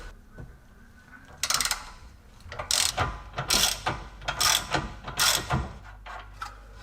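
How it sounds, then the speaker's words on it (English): A ratchet wrench works a 15mm hex nut on the rear tie rod of a Jaguar S-Type during a suspension teardown, making close bursts of quick clicking ratchet strokes in a steady rhythm, with no talking. "I'm first gonna try to remove this tie rod at the rear end."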